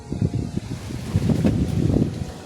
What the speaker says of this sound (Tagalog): Grabe, grabe ang hangin dito sa ano.